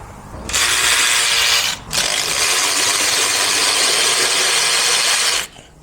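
A cordless ratchet on a fresh battery runs in two loud, steady bursts with a brief pause between them, working on a 2015 Hyundai Santa Fe intake in a repair shop.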